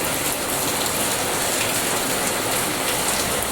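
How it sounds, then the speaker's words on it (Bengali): Steady rain falls in a dense, even hiss of drops on surfaces, loud and continuous with no pauses or talk. "কীভাবে বৃষ্টি পড়ছে একভাবে বৃষ্টি লেগেই রয়েছে"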